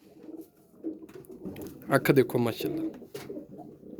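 Golden pigeons of the Mian Nazir bloodline coo in low, rolling phrases close by, while someone talks over them.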